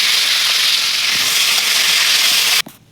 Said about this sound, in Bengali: তো এই যে মাছ ভাজি করতেছে